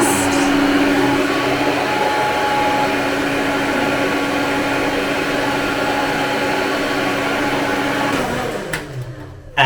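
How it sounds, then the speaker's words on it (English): An unusual hotel hairdryer with an attached tube, running at a loud, steady whine and rush of air that carries on evenly before cutting off abruptly near the end. "I've never seen a hairdryer like this."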